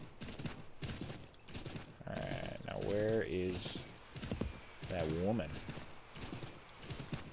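Horse hooves clop rapidly in Assassin's Creed III, a steady galloping rhythm running under someone speaking and a whinny-like game voice.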